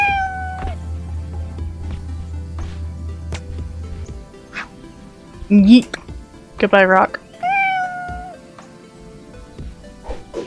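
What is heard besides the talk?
cat meowing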